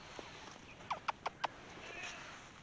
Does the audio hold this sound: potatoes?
no